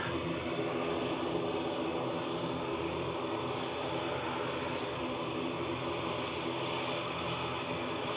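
A propeller airliner at Manchester Airport gives a steady, broad engine drone that stays even throughout, distant to moderate and alone with no voices.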